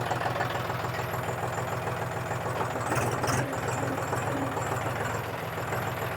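A 2025 John Deere 5045 D tractor engine runs steadily in first gear, its diesel chugging in a loud, continuous low throb close by, with a faint rattle partway through.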